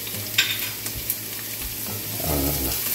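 Garlic sautéing in a pan for pork giniling gives a steady close sizzle with a few scraping stirs and a louder rumble of frying near the end.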